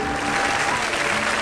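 Steady applause from an audience at an awards ceremony, a dense, even patter of many hands clapping continuously without pause, with faint talk underneath.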